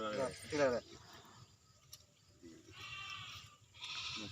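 Goats bleat intermittently at a rural village Pongal celebration, nearby and moderately loud, with people talking around them between the calls.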